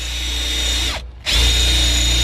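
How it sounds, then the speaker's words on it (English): A power drill with a very dull bit whines loudly and steadily up close, briefly stopping and then spinning up again. "This is the most dullest drill bit ever."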